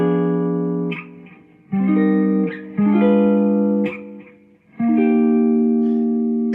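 Neo soul guitar chords move from the 1 chord to a diminished 2 chord. Four or five rich, sustained chords ring out loud and close, each struck cleanly and left to decay before the next.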